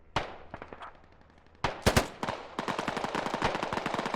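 Gunfire in the military shooter Squad: a few scattered single shots, then loud bursts followed by sustained rapid automatic fire, near and continuous.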